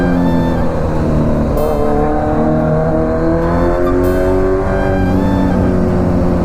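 Loud, close Kawasaki Z900 motorcycle exhaust, a continuous raspy engine drone with rising and falling revs through the whole stretch, nothing else audible over it.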